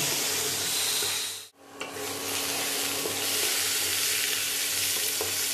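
A paste masala of onion, garlic, ginger and tomato sizzles loudly in hot oil while it is stir-fried, a steady close frying hiss that dips briefly as it is stirred, then returns with faint scraping.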